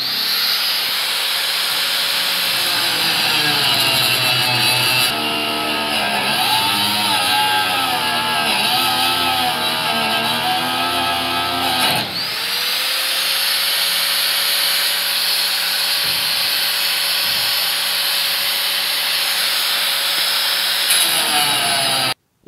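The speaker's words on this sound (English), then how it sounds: "You always gotta be watching when you're using that grinder." A power grinder runs loud and continuous while cutting into a wooden bar at an off-grid tiny house, with a brief dip in the whine around the midpoint before it resumes steadily.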